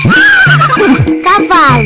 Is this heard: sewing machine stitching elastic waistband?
no